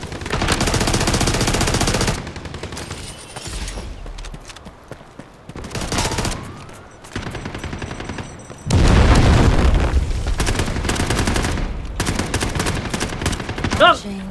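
Video game bursts of rapid automatic gunfire come in loud clusters separated by quieter gaps, with a few scattered single shots and faint sound effects.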